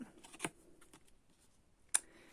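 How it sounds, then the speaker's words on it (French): Scissors make two sharp, quiet snips through paper during an Advent calendar craft, with faint handling rustle between the cuts. "On va prendre une paire de ciseaux"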